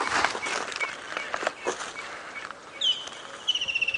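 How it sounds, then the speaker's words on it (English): An unidentified bird calls out in the bush during a sunset safari drive, its short repeated notes rising toward the end over faint rustling and a few soft knocks, no one speaking. "I can hear a funny bird calling"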